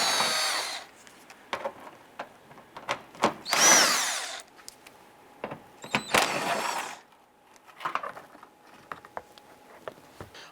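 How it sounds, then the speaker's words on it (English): A power drill backs out 8mm screws holding a fender flare on a 2002-2008 Ram 1500, in loud, short whirring bursts separated by pauses, clicks and rattles of handling nearby. "remove the 8mm screws securing our fender flare to this vehicle"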